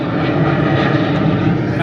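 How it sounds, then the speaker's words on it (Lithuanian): A fixed-wing airplane flies near Corfu airport with a loud, close, steady engine roar that holds even throughout the short stretch, with no voices over it. "Čia netoli oro uostas, lėktuvai skraido."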